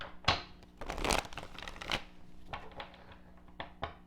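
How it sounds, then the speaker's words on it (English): Close, quiet tarot card shuffling with papery riffles and crinkly rustles, a dense burst early on followed by lighter scattered taps. "I need to shuffle."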